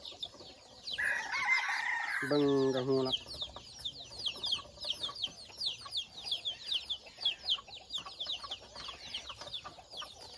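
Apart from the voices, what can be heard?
red junglefowl crowing and clucking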